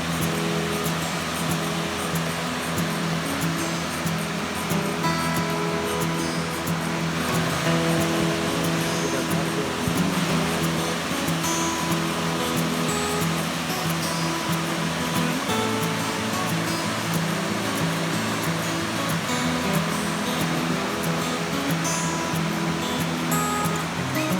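A waterfall roars in a constant, dense rush of water close by, steady throughout with no pauses.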